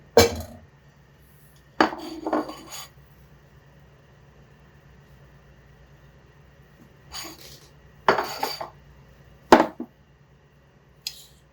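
A medium-sized metal pot is set down and handled on a stovetop while butter is melted for no-bake chocolate peanut butter oatmeal cookies, with several separate clanks and scrapes spread between quiet stretches.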